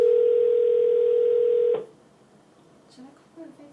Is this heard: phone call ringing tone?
yes